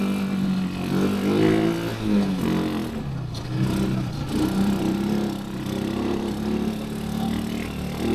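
A car engine running nearby with a steady mid-pitched hum that rises slightly in a couple of revving swells, heard at a roadside coffee spot below coral cliffs in Puncak 2 Sukawa.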